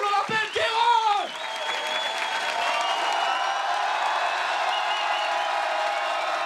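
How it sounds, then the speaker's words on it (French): A comedy show audience breaks into sustained applause after a brief French announcer's voice, clapping steadily and loudly from start to finish. "Gardez vos applaudissements pour l'homme que l'on appelle Kairon"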